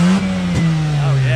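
Mazda RX-8 race car on a wet track, its engine droning through the exhaust muffler with a steady buzzing note, a brief dip and surge partway through, loud and close.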